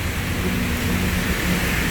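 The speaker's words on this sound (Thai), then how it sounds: "ตอนนี้ฝนตกนะครับ ดูสิครับฝนตก" Heavy rain pours steadily during a thunderstorm at a house in Lat Phrao, a dense, continuous hiss close by with no break.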